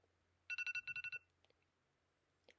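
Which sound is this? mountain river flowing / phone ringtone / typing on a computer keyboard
phone ringtone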